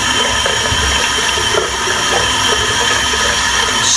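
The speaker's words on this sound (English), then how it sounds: "I'll just rinse the soap out" Running tap water rinsing shaving soap off, a loud steady splashing rush that fills the whole moment with no voices over it.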